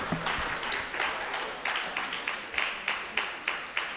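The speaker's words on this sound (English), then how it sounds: "Give them a round of applause." Applause from the audience at a secondary school debate, a steady patter of many hands that turns into a rhythmic clap toward the end, moderately distant.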